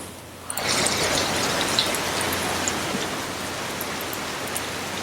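Steady rain plays as a dense, even hiss that starts abruptly and continues alone at constant moderate loudness.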